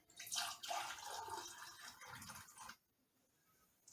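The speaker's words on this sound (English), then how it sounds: "I'm just going to pour it in my little funnel" Homemade elderberry syrup pours from a jar into a small funnel in a close, splashing trickle that runs for a few seconds and then stops abruptly, followed by near silence.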